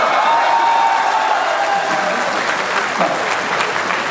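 A live audience at a Hindi poetry recital claps loudly in a dense, sustained round of applause that fills the hall and tapers slightly toward the end.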